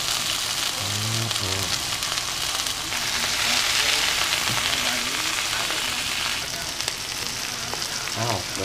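Marinated steak, roughly 12 to 16 ounces, frying in a pan with a steady, loud sizzle and crackle that continues through the whole stretch, with a few brief low thumps of handling along the way.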